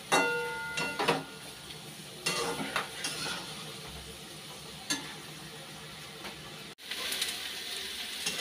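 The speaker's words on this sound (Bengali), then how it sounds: "ভেজে রাখা আলু আর চাল কুমড়োটাও দিয়ে দিচ্ছি এখন। দিয়ে আর একটু কষিয়ে নিই ভালো করে।" Fried potatoes and ash gourd sautéing in a pan, with soft sizzling under scattered stirring scrapes and clinks of a spatula against the metal, steady and close with no voices.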